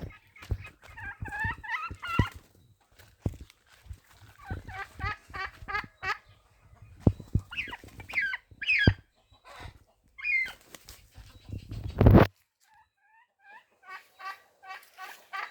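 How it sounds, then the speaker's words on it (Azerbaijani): Turkeys gobble in rapid rattling bursts, several calls overlapping and spread across the stretch, close by among other farmyard birds, with a loud flapping or scuffle near the end before more gobbles. "bu hinduşkanı bunların yanına koydum"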